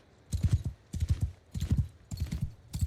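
Horse hooves clip-clop in rhythmic bursts in the medieval combat game Mount & Blade II: Bannerlord, with a short neigh mixed in, close and fairly loud over a quiet background.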